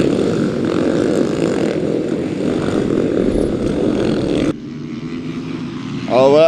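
Supermoto motorcycles racing at the Mettet track, a loud continuous engine drone from the machines arriving, then quieter before a rising high-revving whine at the end, with a faint voice in the background.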